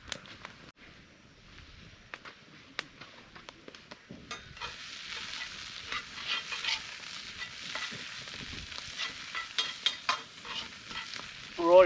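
Onions fry and caramelise in a pan set straight over coals, starting with faint scattered ticks and crackles, then swelling into a steady, louder sizzle with stirring sounds toward the end.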